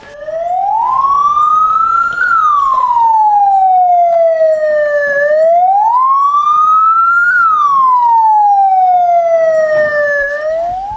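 An ambulance siren wails in long rising and falling sweeps, loud and close, cycling steadily with no voices over it.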